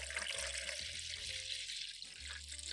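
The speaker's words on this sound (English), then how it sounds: "Change the water and wash thoroughly until the ginger skin is clean" Ginger is washed under a running kitchen tap, a steady hiss of flowing water with faint splashing and low hum, close and continuous.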